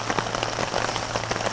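Steady rain patters at a campsite in Dingalan and General Nakar, a dense, even hiss of drops striking surfaces close by, with no voices over it.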